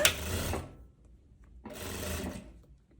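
A sewing machine runs a thin, narrow hem along a light summer dress in two short close bursts of rapid stitching, separated by a near-silent pause.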